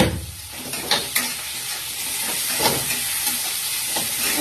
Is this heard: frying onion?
yes